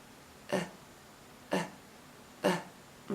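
A voice imitates a resting baby's grunting breathing, three short, separate throaty grunts spaced about a second apart, close and moderately loud over quiet background.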